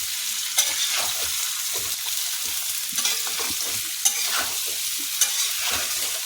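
Potatoes coated in turmeric being stirred in a frying pan, a soft steady sizzle broken by repeated spatula scrapes and a few sharp knocks against the pan.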